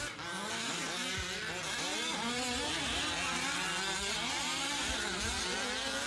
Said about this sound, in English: That engine sounds so good.